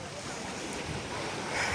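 Sea waves washing onto the shore on a hot, windy day, a continuous broad rush of surf mixed with wind noise on the microphone.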